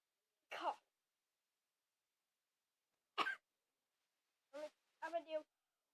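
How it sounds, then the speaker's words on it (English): Several short, dry coughs and throat-clears, one single burst followed by a couple of quick clustered ones, close and isolated against silence. "Cough."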